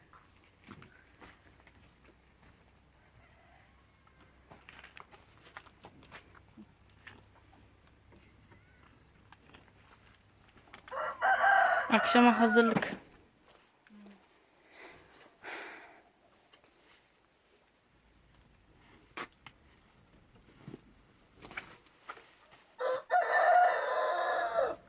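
Hens cluck softly in the background while a rooster crows loudly twice, once midway and once at the end; a person speaks briefly.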